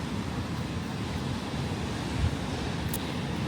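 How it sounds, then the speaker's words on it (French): Ocean waves breaking on a shore where a surfer is out, a continuous broad roar of surf mixed with wind rumble, steady and fairly loud, with no talking. "Il y a des vagues."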